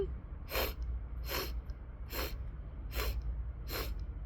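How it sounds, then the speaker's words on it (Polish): Five sharp nasal inhales during a breathing exercise, evenly spaced about three-quarters of a second apart, each a short hissy sniff, close and clear over a low steady background hum. "bierzemy na początku 5 wdechów nosem"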